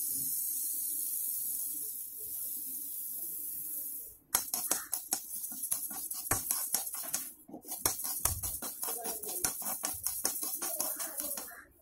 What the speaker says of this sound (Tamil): இப்போ கடாய் நல்லா சூடாயிட்டு இதுல நாம கொள்ளு பருப்பு போட்டு வறுத்து எடுத்துக்கலாம்